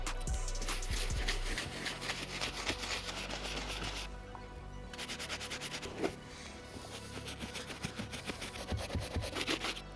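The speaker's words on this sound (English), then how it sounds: "The first brush I'm gonna be using is a soft bristle brush. I'm gonna go over the entire upper and inside" A soft bristle brush scrubs the uppers and insides of beat-up White Cement Jordan 4 sneakers, giving a steady close rasping rub with short bursts and brief pauses, no talking.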